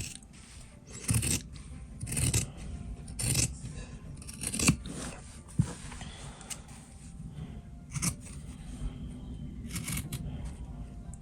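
Scissors trim the seam allowance of sewn fabric in short bursts of crisp snipping, about eight separate cuts spaced unevenly over the stretch, close and moderately loud with quiet handling between them.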